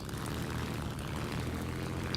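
An I-16 Type 27 propeller fighter in the War Thunder game roars steadily as it dives, with a dense, unbroken engine drone and rushing air throughout.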